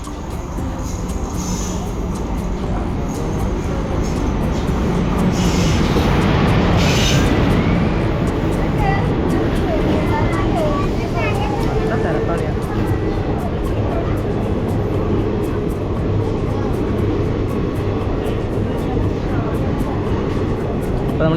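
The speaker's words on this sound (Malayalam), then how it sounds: "ഒരു ട്രെയിനിലാണ് കോഴിക്കോട് പോണത്" A train bound for Kozhikode rumbles steadily throughout, a loud continuous clatter of rail travel heard from inside with faint voices under it.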